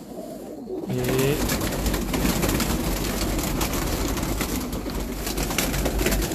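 Breeder pigeons on a rooftop coo low and steadily amid a dense, noisy outdoor backdrop, with a voice briefly near the start.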